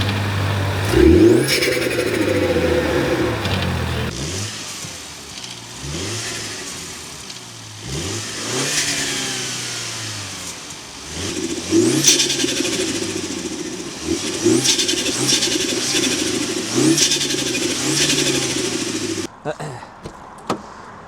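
A Mini F56 fitted with an aftermarket induction kit revs repeatedly, each blip rising and falling in a loud, close engine roar with brief settles toward idle between throttle stabs, for about twenty seconds before cutting off.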